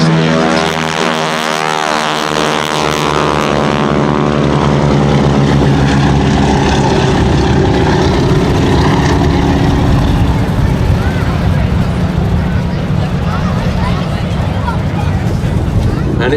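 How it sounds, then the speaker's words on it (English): Two Boeing Stearman Model 75 biplanes perform at an air show with wing walkers, their radial engines droning loudly and steadily, rising in a long pass while a commentator talks over the noise. "two Boeing Stearman Model 75s"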